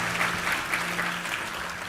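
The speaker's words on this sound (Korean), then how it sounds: "우리 하나님께 감사와 영광의 박수 올려드리겠습니다" A Korean Sunday worship congregation claps together for about two seconds, a rhythmic, fairly loud round of applause with a faint sustained organ or keyboard tone underneath.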